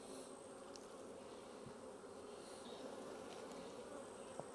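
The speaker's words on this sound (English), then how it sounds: "Lots of beautiful calm bees though." Calm honey bees drone steadily from an open hive during an inspection, a dense, even buzz held at a close, constant level throughout with no voices.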